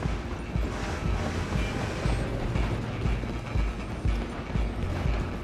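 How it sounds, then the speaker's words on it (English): A moving train in Red Dead Redemption 2, a dense, steady rumble with rhythmic clacking wheels and clopping horse hooves close by, loud and continuous without talk. "I'm gonna ride ahead and stop the train"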